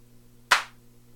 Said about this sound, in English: You get clap rate, number of claps, how many random claps